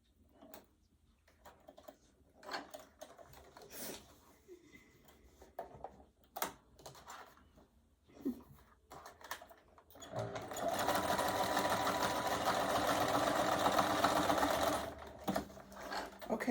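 Sewing machine stitching, preceded by scattered clicks and handling noises, then a loud continuous mechanical whirring run of about five seconds before it stops and the clicks resume.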